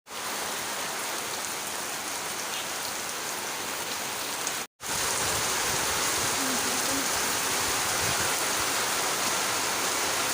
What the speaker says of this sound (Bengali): এই দেখো বৃষ্টি আরো জোরে হচ্ছে